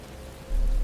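Rain beginning to fall in the Batman: Return to Arkham video game, a soft steady patter that swells noticeably halfway through into a heavier, fuller wash of rainfall with no talk.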